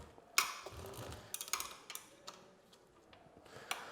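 Rear wheel of a FunBikes MXR 1300w lithium electric dirt bike turned slowly by hand, giving faint, quiet mechanical ticks and light ratcheting clicks spaced irregularly, with a sharper click near the start.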